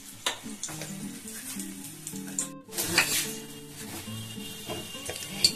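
Dried red chillies fry in a pan with a crackling sizzle and spoon scrapes, close by, while music plays over it. Near the middle the music breaks briefly.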